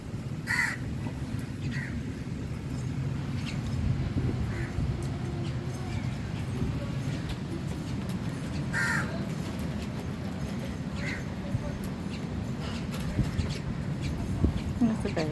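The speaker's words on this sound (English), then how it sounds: "Crow." Crows cawing around a hotel in Sri Lanka, several short harsh caws scattered over a steady low background murmur, with people talking nearby.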